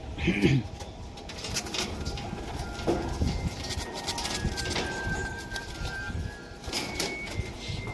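Tippler pigeons, including a female, cooing softly in a loft, low murmuring calls under steady background noise and occasional voices nearby.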